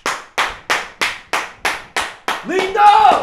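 Applause from a live comedy talk-show audience, starting as a run of sharp, evenly spaced claps about three per second, then swelling into dense, loud clapping at the end.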